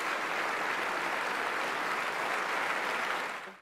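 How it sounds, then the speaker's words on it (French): Sustained applause from members in a parliament chamber, dense and even throughout before cutting off at the end. "Ce sont sous les applaudissements de ses pairs que Max Mathiassin finit son intervention sur l'esclavage pratiqué en Libye"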